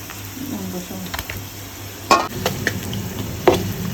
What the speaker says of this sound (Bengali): পেস্টটা সুন্দর করে ভাজা ভাজা হয়ে গেছে।